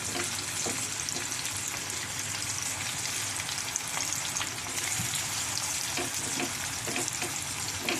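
Boiled potatoes coated in salt and turmeric fry in hot oil with a continuous dense sizzle and crackle, close and steady, with faint clinks from handling.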